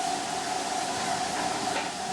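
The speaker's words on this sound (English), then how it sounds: "We're downwind of this beautiful old loco." An old steam locomotive heard from downwind on a British steam railway gives a steady, close roar of escaping steam and working machinery with a faint tonal hum, continuous and without talk.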